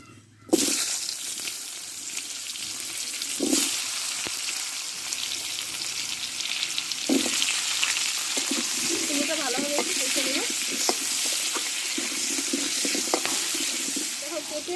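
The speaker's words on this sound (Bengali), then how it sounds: "এই তেলে আমি এবার কুমড়োটাকে কষে নেবো" Pumpkin sizzling as it fries in hot oil left from frying prawns, a steady close hiss with occasional stirring knocks and some watery bubbling, with no talk.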